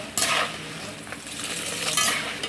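Turmeric powder goes into hot oil and gets stirred, with a soft sizzle under scraping and light metal clinks of a spoon against the pan, coming in a few distinct strokes.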